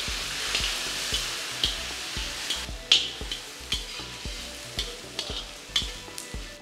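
Tomatoes fry in a pan for a village-style goat boti curry, a loud continuous sizzle broken by regular scraping stirs and clacks of a utensil against the pan, close up with no voices.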